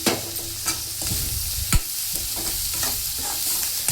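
Bitter gourd curry sizzles and fries in a pan while a spoon stirs it, with a steady broadband fry hiss and several sharp scraping clinks spread irregularly across the clip, close and fairly loud, no voices.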